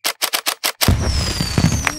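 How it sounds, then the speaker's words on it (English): A cartoon Chinese New Year firework display: six rapid, evenly spaced crackling bursts, then a louder burst trailing into sizzling sparkles and whistling streaks, with scattered pops after. "A lovely firework display."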